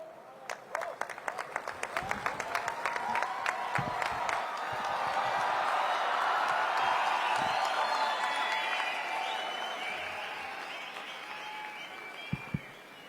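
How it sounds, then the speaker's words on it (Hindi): An audience at a Hindi poetry gathering honouring poet Surendra Dubey gives scattered individual claps that quickly swell into sustained, full applause. It then slowly fades, with a couple of stray claps near the end. "इतनी कम तालियां बजाई"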